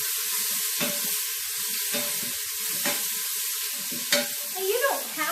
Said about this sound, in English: I'm going to go ahead and put that in and let that sear up.